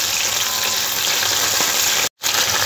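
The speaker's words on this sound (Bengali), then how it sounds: "চিকেনগুলো খুব সুন্দর লাল করে ভেজে নিয়েছি" Crispy chicken sticks fry in hot oil with a dense, loud, continuous crackling sizzle that cuts out for a moment near the end, then resumes.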